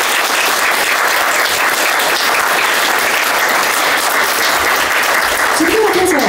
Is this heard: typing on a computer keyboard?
no